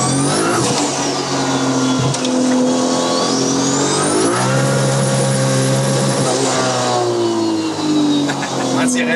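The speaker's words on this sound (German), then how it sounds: "ich gebe jetzt Vollgas" A 1000 hp car at full throttle on a race track, its engine loud and close, screaming up through rising revs, briefly dropping at a gear change, then climbing and holding high again, with voices talking over it.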